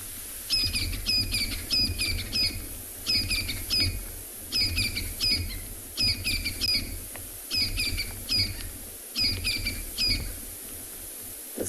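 Francolins in a South African morning setting give repeated harsh, rhythmic squawking calls in quick bursts, one bird answering another. The calls are moderately distant over a steady low background rumble, with no voices.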